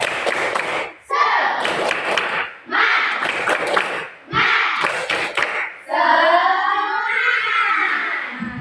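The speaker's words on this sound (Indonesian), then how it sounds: "marilah kita tepuk semangat" A classroom of pupils performs a rhythmic spirit clap, loud unison bursts of hand claps in several timed groups separated by short pauses, ending with children's voices chanting together.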